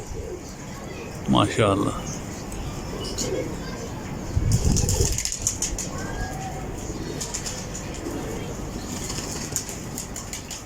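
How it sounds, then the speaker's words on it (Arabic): Domestic pigeons flying overhead, with wingbeat flutters and bird calls rising over steady outdoor ambience; someone speaks briefly near the start. "نشوف الحمام بعده مطشر بالعالي"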